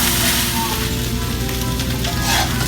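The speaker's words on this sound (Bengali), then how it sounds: "শুটকি ছেড়ে আমি শুটকি সহ পেঁয়াজ ভাজবো" Steady sizzling of dried Loitta fish and onions frying in a pan, a continuous close hiss with no talking.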